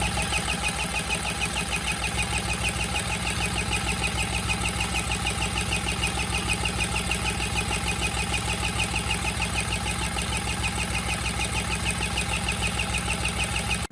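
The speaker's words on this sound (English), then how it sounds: "we'll make the table go around or shake" A small homemade gold shaker table runs continuously, its motor drive producing a steady rapid mechanical rattle and hum that stays even and close throughout, with no talk.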